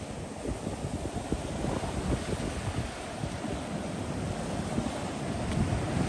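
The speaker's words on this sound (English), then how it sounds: "Love seeing the waves coming in and going out." Ocean waves rolling onto a beach during a tropical storm, a continuous roar of surf mixed with heavy wind buffeting the microphone.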